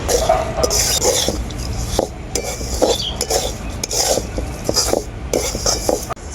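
Semolina pulao with chana dal being stirred in a pan with a spoon, giving repeated scraping and clinking strokes against the metal at a steady rhythm, close and fairly loud with no talking.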